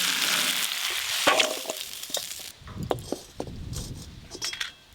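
Potato, pumpkin and Malabar spinach frying in a pan, a dense sizzle at first that thins out, then metallic clinks and scrapes of utensils and stirring take over, close and without speech.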